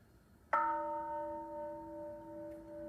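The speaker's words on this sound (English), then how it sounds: "when you hear the bell" A meditation bell struck once, its clear metallic strike blooming into a long, steady ring with layered overtones that slowly fades and sustains to the end, alone with no talk.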